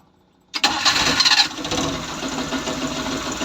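A small engine cranks and catches right after an ignition coil test, bursting into a steady, fairly loud running note that holds on evenly to the end.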